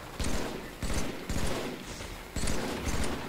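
Halo 3 multiplayer gunfire sounds as repeated bursts of rapid, loud shots, about five volleys with short gaps over a constant roar of game noise.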